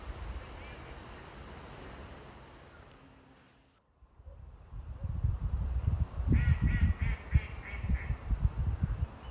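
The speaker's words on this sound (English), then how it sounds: "The sound of the ducks reveal the fact that we've arrived at Paul's Pond" Ducks quack repeatedly at a woodland pond, a burst of close, loud calls in the second half after a quieter stretch of water and ambient noise.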